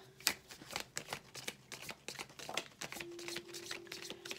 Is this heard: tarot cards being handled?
yes